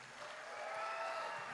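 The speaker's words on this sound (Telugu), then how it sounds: "అందరూ ఒకసారి తనకి క్లాప్స్ కొట్టండి." An audience at a film event gives a short burst of applause, a steady wash of many hands clapping at a moderate distance.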